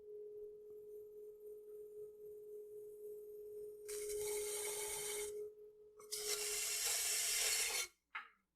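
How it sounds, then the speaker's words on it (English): A stick scrapes against clay on a spinning pottery wheel, two rough rasping passes over a steady wheel hum, close and fairly quiet. "Now I'm putting the stick right against the side of the pot where it doesn't need trimming"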